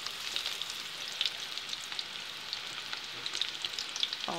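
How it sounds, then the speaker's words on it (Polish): Meat patties fry in hot oil in a pan, a steady bright sizzle with crackling pops and spits scattered throughout, close and fairly quiet with no talk. "I teraz na gorący, rozgrzany olej wkładam moje kotlety"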